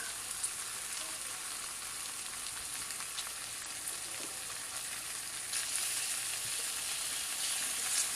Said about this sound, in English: Starting to do that nice bacon crinkly thing.